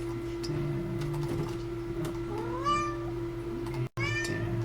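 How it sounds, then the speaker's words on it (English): A house cat meows twice, two drawn-out rising calls fairly close by, over a steady electrical hum and soft ticking clicks from a nearby machine. "Got a chatty cat tonight."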